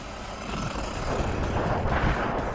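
A GPToys S911 RC monster truck drives along steadily, its motor producing a continuous broadband whirring rush with rough low-end rumble, close and fairly loud throughout.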